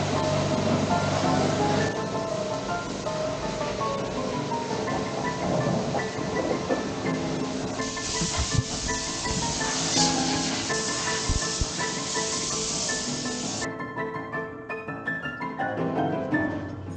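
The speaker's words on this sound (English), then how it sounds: "It starts to rain." Steady rain falls in an outdoor setting in Bangkok, a continuous broadband wash of drops and spray that holds loud throughout, with a few low rumbling thumps mixed in and no voices.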